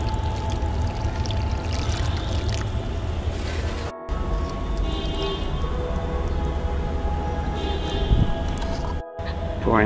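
Leftover guppy fish-tank water pours steadily from a container onto potted cactus plants, making a continuous splashing, trickling rush that stays close and fairly loud, with two brief breaks in the flow.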